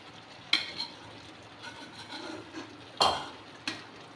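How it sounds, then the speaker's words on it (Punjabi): A spoon scrapes and stirs fried bell pepper and potato sabzi through gravy in a pan, with a few sharp clacks against the vessel standing out over soft, continuous rubbing. "ਸਾਰੀ ਸਬਜ਼ੀ ਜੀ ਆਪਾਂ ਇਹਦੇ ਵਿੱਚ ਮਿਕਸ ਕਰ ਰਹੇ ਹਾਂ"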